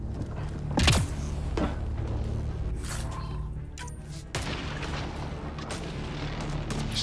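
Enemy gunfire in the sci-fi shooter game Mass Effect: Andromeda, with a loud boom near the start followed by sustained low rumbling and scattered sharp cracks of shots in a continuous battle din.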